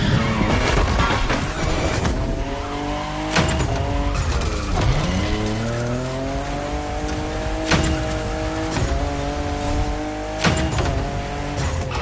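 Toyota Supra, fifth generation, driving in the racing game The Crew Motorfest: a steady engine drone with gear shifts and pitch swoops rising and falling, sharp transient knocks and tyre squeal scattered throughout, no voices.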